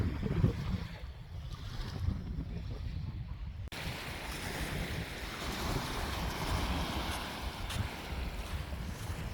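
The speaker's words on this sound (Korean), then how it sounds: "이렇게 파도 소리도 들으시면서" Steady rushing surf at Dongmak Beach, South Korea, with wind buffeting the microphone, waves washing in continuously at moderate distance.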